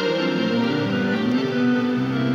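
A sustained keyboard strings tone layered with a reed organ voice holds a rich, steady chord, loud and continuous with no talking.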